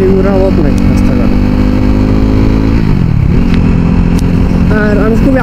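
Loud, close engine drone of a KTM RC 390 motorcycle cruising on a morning road, pitch dipping and climbing as it shifts, with someone speaking over the ride.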